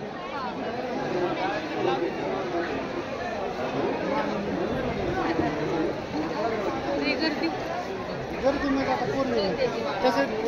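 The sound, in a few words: large crowd chatter at temple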